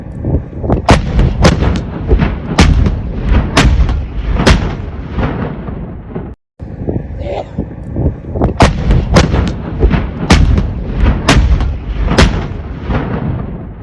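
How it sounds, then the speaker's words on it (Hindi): Artillery fires in the Pakistan–Afghanistan conflict, a loud series of sharp booming shots spaced irregularly with rumbling echoes between them and a brief silent gap midway. "पाकिस्तान भी अपनी आर्टिलरी से अफगानिस्तान की तरफ"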